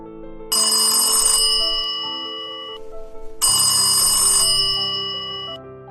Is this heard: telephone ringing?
yes